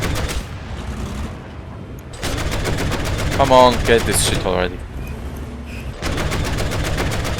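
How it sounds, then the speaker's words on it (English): Rapid automatic cannon fire from a Flakpanzer IV Kugelblitz anti-aircraft vehicle in War Thunder realistic battles, loud sustained bursts under a voice, with a short pause mid-clip and renewed firing at the end. "this cannon is not really cutting it against jets"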